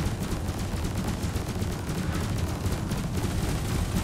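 Ship guns blaze in the space combat game Elite Dangerous, a dense, rapid stream of overlapping shots and booms, steady and sustained throughout.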